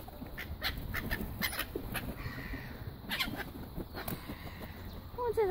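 Ducks and seagulls call in a noisy bunch during feeding, with quacks and sharp gull cries rising over steady outdoor background noise.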